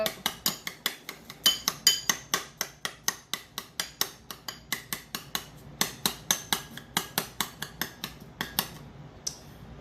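A spoon stirs softened yogurt in an Instant Pot insert, a brisk run of close, bright metallic clinks and scrapes in a steady rhythm, nearly forty strokes with short pauses, loud and alone.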